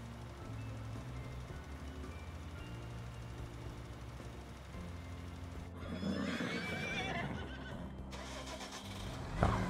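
Horses in Farming Simulator 2019 neigh and whinny over a steady background hum, with a burst of hoof and motion noise later and a louder whinny near the end.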